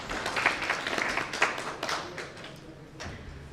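Audience applause at a health ministry ceremony, a burst of scattered clapping from a moderate crowd that thins out toward the end.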